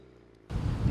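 A VW MK6 GTI with an aftermarket downpipe exhaust under load: after a quiet start, a loud, deep exhaust roar bursts in abruptly and holds steady.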